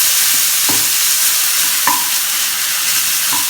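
Onions for palak paneer fry loudly in a pan over a medium flame, a dense steady sizzle broken by a few distinct scraping stirs close up.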